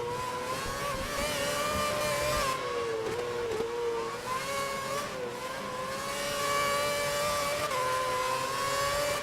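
Race car engines in the F1 2011 video game, a loud sustained high-pitched whine rising and falling steadily through gear changes, with several cars close together and no talk.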